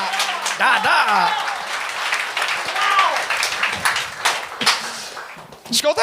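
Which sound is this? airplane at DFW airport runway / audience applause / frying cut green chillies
audience applause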